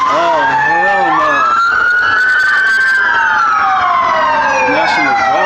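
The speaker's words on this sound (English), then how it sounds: "Look, it's like the 22nd police car that rolled by." Police cars drive past with loud, wailing sirens that sweep up and down in overlapping tones, close and dominating the street scene.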